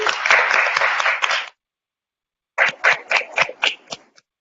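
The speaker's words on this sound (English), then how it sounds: "Let's give her a round of applause." Audience applause at a school board meeting awards ceremony, a burst of clapping that stops abruptly, then resumes after a pause as a second, thinner round of claps.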